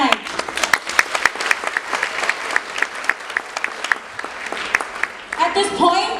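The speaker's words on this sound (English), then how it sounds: "a round of applause for our performers tonight." Audience applause for performers at a Filipino cultural gala, sharp individual claps rising from a broad crowd patter, steady throughout with a voice and cheers emerging near the end.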